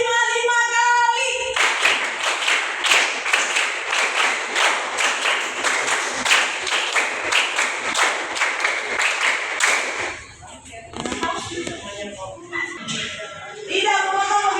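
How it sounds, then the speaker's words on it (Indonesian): A classroom of students claps together in a sustained, fairly loud burst of sharp hand claps lasting several seconds, then stops as children's voices take over. "tepuk 5 kali."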